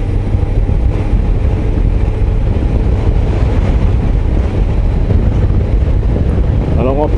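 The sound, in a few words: Suzuki GSX S 1000 GT four-cylinder motorcycle engine riding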